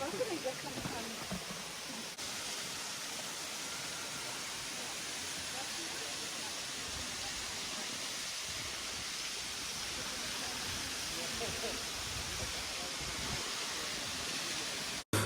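Steady broadband roar of a waterfall at Springbrook Mountains, heard from the bottom of the pit nearby, a constant loud rushing wash with little variation, heavy and continuous throughout with no breaks.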